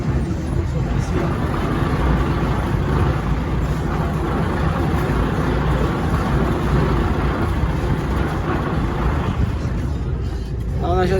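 DAF dump truck driving into a forest, its engine a steady loud droning rumble heard from inside the cab, with some talk over it.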